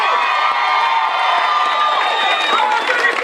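A crowd of women at a march cheers, whoops and claps in a dense, continuous roar with some shouted voices mixed in.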